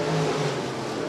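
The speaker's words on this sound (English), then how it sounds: "USRA Stock Car B feature, Dustin Larson looking for the race lead." A USRA stock car engine roars at Rapid Speedway during a B feature race, a loud sustained mid-pitched drone with steady revving, close and without talk.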